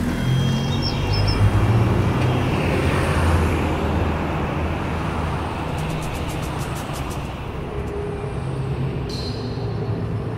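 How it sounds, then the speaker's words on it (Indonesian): A car driving along the road to Bogor in a radio drama, a loud steady low rumble of engine and tyres with a constant roadway roar throughout. "kami pun berangkat ke Bogor menggunakan mobil"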